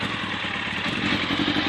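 A Kawasaki ZZR 600 motorcycle idles close by with a dense, slightly uneven rumble and faint clatter, running steadily throughout without any voices.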